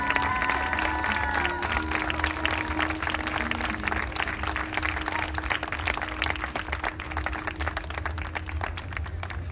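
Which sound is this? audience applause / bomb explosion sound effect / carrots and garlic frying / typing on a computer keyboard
audience applause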